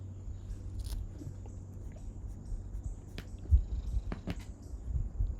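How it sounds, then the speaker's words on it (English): A pet cat purring close by as a low, steady rumble that runs throughout, with a few soft clicks and small movement noises over it and no talking. "My cat has caused me to lose my place."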